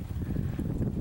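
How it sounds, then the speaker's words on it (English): Gusty wind blows across a creek during a fishing outing, a steady low rumbling buffet against the microphone that lasts the whole second, with no voices. "it's awful windy today"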